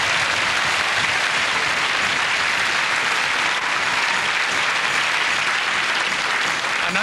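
Sustained, dense applause from a large audience at the South Bank Show arts awards ceremony, loud and steady throughout with no voices over it.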